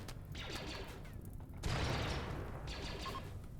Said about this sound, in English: Oh, bombs.